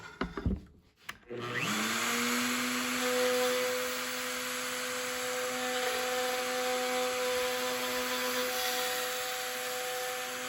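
A power drill bores freehand through wood to clear a notch in a cabin bench seat, starting with a few clunks, then a steady loud whine running nearly ten seconds before winding down.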